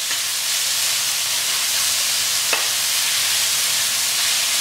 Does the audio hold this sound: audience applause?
no